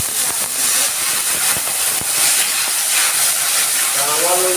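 Water poured into a hot pan of ground cumin and coriander for a raw banana curry sets off a loud, continuous hissing sizzle that stays close and steady throughout.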